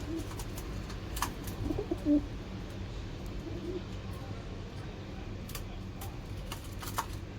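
A male and female pair of pigeons coo softly in short, faint bursts over a quiet background dotted with light ticking clicks.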